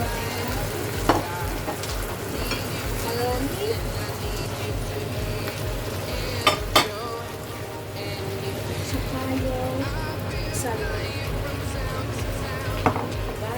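A pan of tomato broth for macaroni with salmon sizzles and bubbles steadily at home, with a few sharp clinks of a utensil against the pan over the constant frying hiss.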